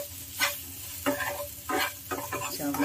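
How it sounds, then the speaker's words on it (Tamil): A spoon stirs masala kozhukattai (Tamil rice dumplings) in a pan, giving several distinct scraping strokes in an uneven rhythm over a soft background sizzle, close and fairly quiet. "இப்போ நம்ம ஃப்ளேம் ஆஃப் பண்ணிவிட்டு நல்லா மிக்ஸ் பண்ணி எடுத்துக்கலாம்."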